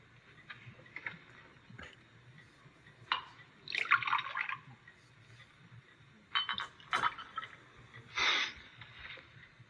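Drinks poured into glasses, a few splashing gurgles and clinks standing out over a quiet hum, with short bursts of liquid rather than a steady stream and no talking.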